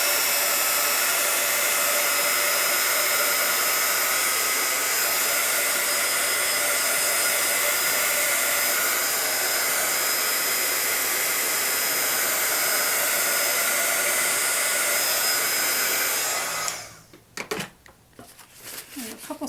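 A heat tool blows in a loud, continuous whir over a stamped craft surface for about seventeen seconds, then cuts off, leaving faint handling sounds.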